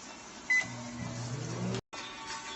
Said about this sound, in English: I'm going to pop that in there for 3 minutes and see if it's microwaved enough